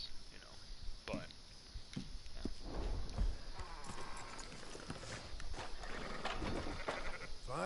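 Sheep bleat in Red Dead Redemption 2 amid a busy game soundscape of hoofbeats and livestock noise, with someone talking over much of it.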